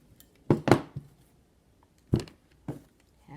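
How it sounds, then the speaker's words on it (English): Scissors cut through craft material with a handful of sharp, close snips: two in quick succession near the start, then two more spaced apart, each brief and crisp against a quiet room with no talking. "we need the scissor. And I'm going to cut that part."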